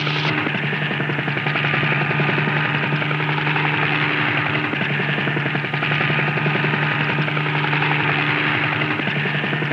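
A helicopter herding scattered bighorn sheep gives off a steady, loud rotor drone with a constant hum, unbroken for the whole stretch with no talk.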